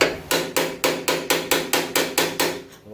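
Hammer tapping a part into a Foxbody Mustang door during restoration: nine sharp, evenly spaced metallic knocks, close and loud, each ringing briefly before the next.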